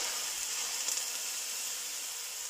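Minced onion in hot olive oil gives off a steady, even sizzle, a soft hiss that stays level with a few tiny crackles.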